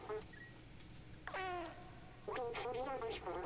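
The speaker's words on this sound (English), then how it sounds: "A quadruped making cute sounds?" A cat in the video game Stray gives several drawn-out, fairly loud meows with brief pauses between them, one short early call followed by two longer, wavering ones.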